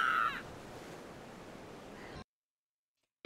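A crow caws in the video game Zombie Viking, a sharp, loud call at the start over a soft ambient wash, which then cuts to silence before a brief return of sound.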